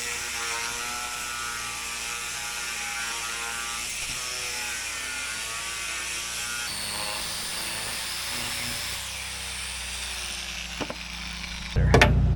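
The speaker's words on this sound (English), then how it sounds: "I'm gonna take a grinder and clean that up." An angle grinder cleans up a leftover metal chunk cut from plates for a backhoe frame repair: a steady high whine with shifting pitch as it bites the steel, ending in a louder grind.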